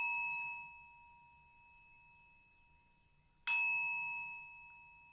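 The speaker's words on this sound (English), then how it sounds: "Allowing the sound of the singing bell" A singing bell rings twice during a morning breathwork and meditation session. Each strike gives a sharp onset, then a pure sustained tone that fades slowly. The sound is alone and fairly quiet, with the strikes about three and a half seconds apart.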